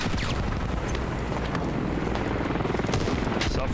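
Machine gun nest firing in the video game Squad, a dense, continuous rattle of gunfire with booming undertones, steady and loud throughout a busy battlefield mix.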